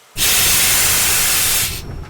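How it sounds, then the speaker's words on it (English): A loud, steady hiss of steam bursts out abruptly, holds for well over a second, then cuts off into a lingering, fainter rushing noise. "he had to let off steam"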